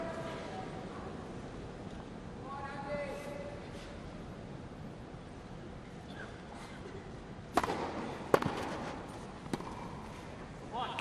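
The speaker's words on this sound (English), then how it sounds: "Just a dull thud from the racket of Murray. It's reverberating round with the roof over." Tennis rackets strike the ball at Wimbledon with the roof closed, giving a few sharp, dull thuds that echo around the covered court, set against crowd murmur and a commentator's voice.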